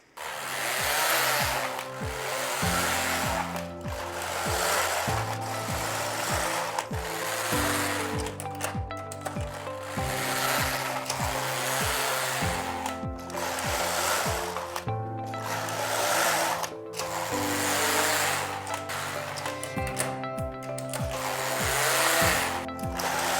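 Passap Duomatic 80 knitting machine working a striped sweater in single bed mode, its carriage sweeping back and forth in regular rasping passes, each stroke followed by a brief clack at the turn, steady and close with no talking.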